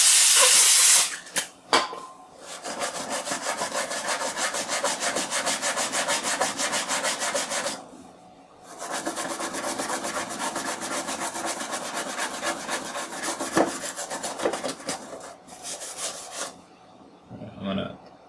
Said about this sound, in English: Scrub them on this side too.